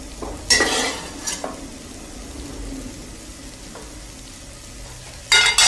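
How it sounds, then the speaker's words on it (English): Beef sears in a hot pan with a soft, steady sizzle under a low background hiss, broken by a few sharp scraping and clattering bursts of stirring near the start and end, with no talk. "wrap up the heat and start searing the meat"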